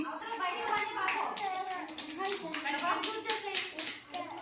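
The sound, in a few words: children clapping hands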